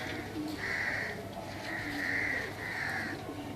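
Pigeons cooing close by, three or four soft, repeated coos in a steady rhythm over light background noise.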